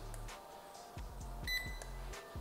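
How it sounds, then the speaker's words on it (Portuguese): Several short electronic beeps from a barcode scanner reading products sound in quick succession amid faint clicks and a low hum, at a clothing store checkout system. "Vou clicar aqui e vou bipar o produto"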